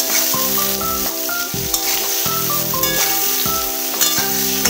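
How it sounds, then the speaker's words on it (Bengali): Pieces of pointed gourd (potol) with salt and turmeric fry in a pan, making a continuous hiss and sizzle beneath prominent background music. "এবার আমি পটলগুলো খুব ভালো করে ভেজে নেব।"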